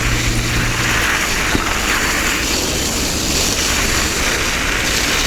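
Strong wind roars steadily into the microphone while gravel biking in extreme winter cold near a Yakutsk river port, a loud broadband rush with gusty swells and no voices.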